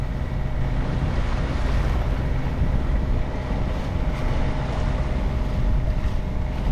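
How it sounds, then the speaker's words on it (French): Steady wind and rushing ocean water aboard a sailboat under genoa, mainsail and mizzen on an Atlantic return crossing, a dense continuous roar with wind buffeting the microphone and no voices. "Je dirais qu'il y a un petit peu de vent."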